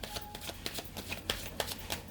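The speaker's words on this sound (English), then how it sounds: "One more shuffle." Tarot cards are shuffled in quick, rhythmic riffling bursts, close and crisp, with no talking.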